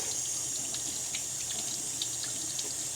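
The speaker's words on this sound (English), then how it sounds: "Undermount sink, a stylish modern faucet. Let's see how long it takes to get hot." Water streams steadily from a stylish modern faucet into an undermount sink in a remodeled budget hotel bathroom, a constant close hiss with no pauses and no talking.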